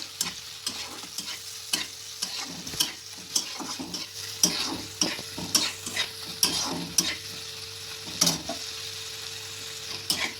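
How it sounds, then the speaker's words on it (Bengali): Egg curry with tomato paste being stirred in a frying pan, a steady low sizzle with repeated scraping strokes of a spoon at an uneven rhythm, close and fairly quiet with no talking. "টমেটো বাটাটা দেওয়ার পর একটু নেড়ে নেবো"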